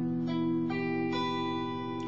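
A ringing guitar barre chord from a song, strummed several times in quick succession so the bright tones sustain and overlap, clear and close with no talking.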